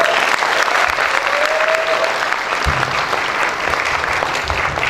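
An audience at a stage drama performance claps for a performer, dense and sustained applause that stays loud throughout, with faint voices and a brief whistle-like tone in the mix.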